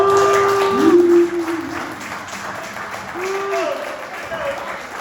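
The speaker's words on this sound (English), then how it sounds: "I just wanted to just kind of give them a round of applause" A crowd claps in steady applause at a mental health awareness event, with tonal whoops or whistles rising over it and voices mixed in.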